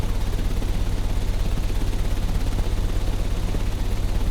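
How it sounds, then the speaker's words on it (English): A machine engine running in the Sherlock Holmes: Crimes & Punishments game, a loud, steady, low rumbling drone with a fast pulsing flutter that holds unchanged throughout, with no talking. "The engine has started."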